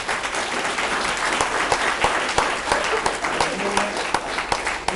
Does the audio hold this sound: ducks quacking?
no